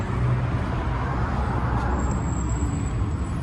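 A 1966 Ford Thunderbird engine idles with a steady low rumble and broad mechanical noise, held constant throughout with no voices.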